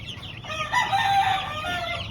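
A pure white Kelso rooster crows once, a loud, close, drawn-out call rising and trailing off over about two seconds, with faint farmyard background and no speech.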